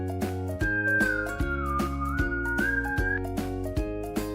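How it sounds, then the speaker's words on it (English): A cartoon character whistles through puckered lips in a children's 3D animation about body sounds, one sustained wavering whistled note gliding down and back up over cheerful background music. "Pucker your lips and blow. You whistle."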